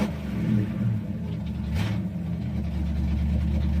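A 1986 Ford Mustang GT engine idles in cold weather, a steady low rumble with an even, throbbing pulse and a brief rise in pitch partway through, close and alone.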